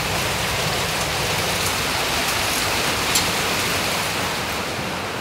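Heavy rain falling steadily, a dense continuous roar of drops on surfaces nearby, loud and unbroken throughout with no voices.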